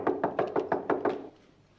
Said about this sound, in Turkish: ben kapıyı çalıyorum